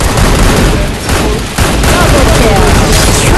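Dense bursts of gunfire from a Free Fire match crackle loudly and close, rapid overlapping shots with a brief dip before resuming, mixed under a voice talking.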